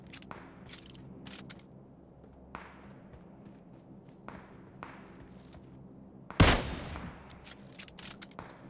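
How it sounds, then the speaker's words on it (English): A nearby grenade in PUBG Mobile goes off as one loud, sharp blast that trails into a short rumble, following scattered distant gunshots and small clicks. "That was a grenade from somewhere close."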